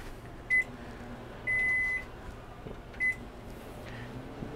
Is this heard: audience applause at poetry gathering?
no